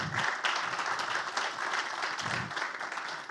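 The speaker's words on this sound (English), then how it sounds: "Let's applaud her." Audience at an InnovX-BCR demo day applauds as a guest editor is welcomed onstage, steady many-handed clapping that stays even throughout, with a few low thumps underneath.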